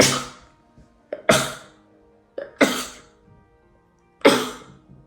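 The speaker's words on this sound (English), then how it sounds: "I think I'm gonna sneeze." A woman sneezes several times in a row, each a sharp, close burst with a short gasp before it, spaced by quiet pauses.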